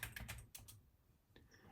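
Keys clatter on a computer keyboard as a short test phrase is typed, a quick burst of close, faint clicks, then a pause and a couple more taps, no voices.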